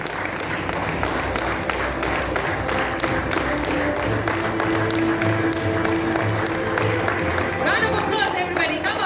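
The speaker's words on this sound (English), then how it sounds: "Please put your hands together for 1 Billion Literates Foundation." An audience at a charity awards night applauds steadily and loudly for the whole stretch, a dense wash of many hands clapping with crowd noise and talk mixed in.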